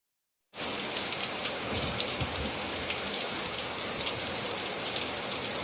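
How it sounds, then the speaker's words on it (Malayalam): Heavy rain pours steadily and loudly after a brief silence, a dense continuous hiss of drops drumming on surfaces with no voices over it. "ഇന്നും നല്ല മഴയാണല്ലോ."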